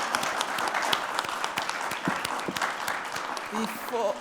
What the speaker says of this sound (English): Can we give a round of applause to this really fabulous panel?